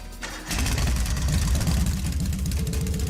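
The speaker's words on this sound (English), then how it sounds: "Right then, first is starting up the engine." A motorbike engine in the video game Trails of Cold Steel cranks and catches, then settles into a loud, steady, throbbing idle with a rapid low pulse, with no voices.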